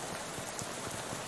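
Steady rain falls in the video game Shadows Over Loathing, a dense, even patter of drops that runs unbroken and fairly close through the whole short stretch, with no voices.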